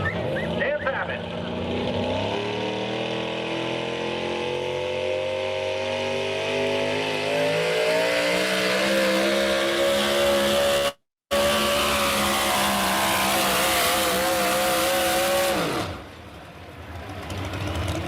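A pulling truck at a truck pull event revs hard for over fifteen seconds, its engine note climbing and holding at a loud, sustained roar before cutting off abruptly, with an announcer's voice running underneath.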